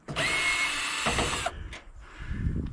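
A power driver spins out quarter-inch screws from a Maytag dryer being torn down outdoors in a yard, giving a loud close whir for about a second and a half, followed by clinks and handling noises.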